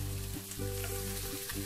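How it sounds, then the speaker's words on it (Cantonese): Lamb brisket frying in its own fat in a wok sizzles steadily and close, with a low hum underneath and a couple of brief scraping stirs, no voices. "我就已經煎到佢香咗噶啦"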